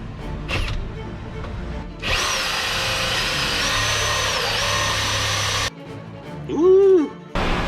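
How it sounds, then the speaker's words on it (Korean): A power drill bores a hole to clear a hard, badly blocked restaurant drain, whirring loud and steady for several seconds before stopping, followed by a brief higher whine and clattering handling sounds. "구멍을 좀 하나 뚫어야겠습니다"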